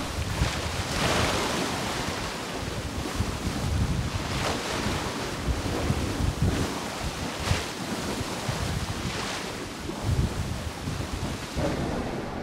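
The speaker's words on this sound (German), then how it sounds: "eine ordentliche Welle steht, die baut sich ja jetzt hier längs über die ganze Ostsee auf" Waves crash and strong wind roars on the Baltic Sea while sailing single-handed upwind in a Force 8 gale, a loud, continuous wash with repeated surging bursts of spray and buffeting gusts, no voices.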